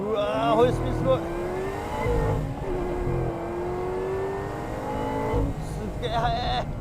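A race car, apparently a ZR1, 458, RSD 360, NSX-R or 370Z, accelerates hard on a track, its engine note climbing steadily in pitch with a brief gear change midway, loud and close, with excited voices over it.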